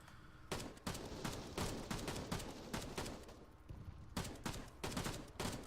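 Rapid bursts of nearby gunfire crack out in quick irregular volleys over a constant dense background rumble of Arma 3 multiplayer game noise.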